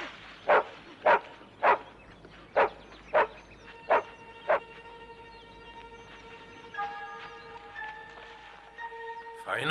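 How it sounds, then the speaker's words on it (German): A dog barks seven times in an even, evenly spaced series, loud and close, then falls quiet while a softer tonal whine or call trails off afterward. "Feiner Hund bist du, feiner Junge."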